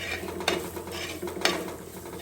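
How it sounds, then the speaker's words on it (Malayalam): Masala for pepper chicken is stirred and sautéed in a pan, with a soft sizzle under two distinct spoon scrapes against the pan, about a second apart. "അതുവരെ നമുക്ക് ഒന്നുകൂടി ഒന്ന് വഴറ്റി കൊടുക്കാം"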